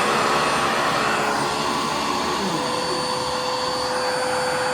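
Riccar R40 Radiance upright vacuum cleaner running, a loud, steady motor whine and airflow roar held throughout with a slight shift in pitch partway through.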